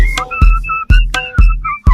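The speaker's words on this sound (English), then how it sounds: "Party people, blow your whistle." Shrill party whistles blown at a Ghanaian celebration, about six sharp two-tone blasts in an uneven rhythm, loud and close, with low thuds under each blast and no voices between them.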